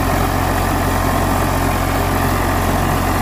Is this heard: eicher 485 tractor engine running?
yes